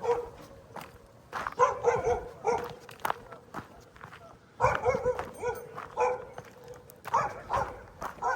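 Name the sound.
dog barking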